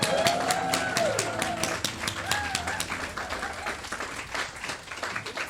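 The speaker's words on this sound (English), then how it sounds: "give a very big round of applause" Audience clapping at a live podcast recording at the London Podcast Festival, dense and fairly loud at first, with a few voices and a tonal whoop over it, then thinning and tapering.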